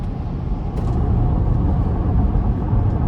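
Inside a 2020 Toyota RAV4 Hybrid XSE with a 2.5-liter four-cylinder, a steady low rumble of tire and road noise fills the cabin while driving, continuous and moderate, with no talking.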